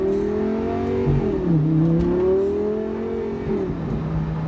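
A Lamborghini Gallardo with a VF Engineering TCU tune accelerates in first gear, its engine droning loudly and steadily with rising pitch, dipping briefly at a shift-like stumble before climbing again, close and continuous.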